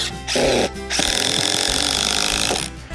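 Power drill driving screws into the back of a slightly split wooden board at an allotment, loud close whirring bursts with a long sustained run.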